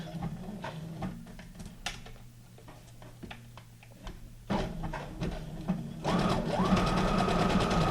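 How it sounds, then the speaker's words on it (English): A sewing machine runs a decorative stitch while stitching a junk journal pocket, with quiet rhythmic ticking early on and then steady, louder, close whirring in bursts toward the end, with no talk. "Let me not take forever sewing this."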